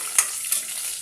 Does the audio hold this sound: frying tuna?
yes